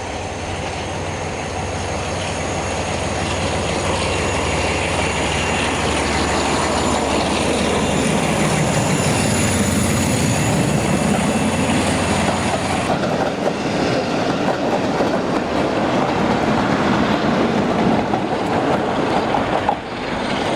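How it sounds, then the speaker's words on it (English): A northbound diesel train with a Class 47 leading and a Class 45 at the rear rolls past loud and close, a steady engine roar and rumbling wheel noise filling all twenty seconds without a break. "the northbound train is in charge of the Class 47, tailed by the Class 45."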